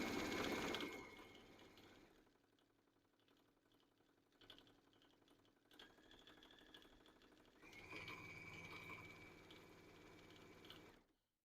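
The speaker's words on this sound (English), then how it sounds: "can hear my machine fighting against this upholstery fabric" A sewing machine labours through thick upholstery fabric, its rapid mechanical stitching whirring in faint, uneven bursts that slow and pick up again before stopping.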